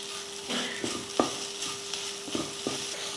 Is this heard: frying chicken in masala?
yes